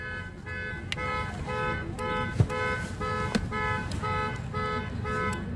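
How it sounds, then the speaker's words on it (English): Car alarms in Orange, California, set off by a revving engine, blaring in a repeating electronic pattern, steady and fairly loud, with a couple of sharp knocks and faint chirps mixed in. "He just set off all the car alarms with his revving."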